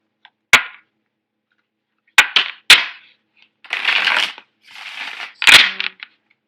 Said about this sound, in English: I'm going to lay out your cards.